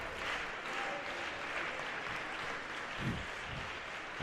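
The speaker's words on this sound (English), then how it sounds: "and the crowd's hyping him up" Crowd at a live competition final cheering and applauding a competitor, a sustained wash of clapping and crowd noise at a steady level.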